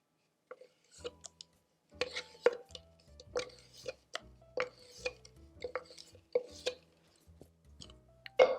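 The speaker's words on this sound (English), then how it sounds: "now we're just going to stir it together until all of that wild rice and the potatoes and the apples and everything is really well coated" A salad of wild rice, roasted sweet potato and apple being stirred with sauce, heard as a series of soft, irregular clinks and scrapes of a utensil against a bowl, fairly quiet and close, with no talking.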